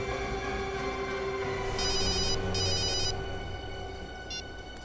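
Two short electronic telephone rings trill over a steady background drone, followed by a brief third chirp.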